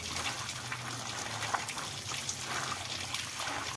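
Water pouring into a pot of rajma dal on a mud stove, a steady trickling gush that runs continuously and evenly close by for several seconds.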